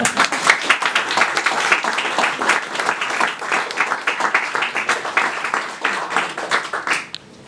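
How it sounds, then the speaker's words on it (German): Audience applause for a guest speaker at a talk, a lively burst of distinct, close handclaps in an uneven rhythm that keeps going for about seven seconds before stopping abruptly. "Und dieser Applaus ist jetzt nur für ihn"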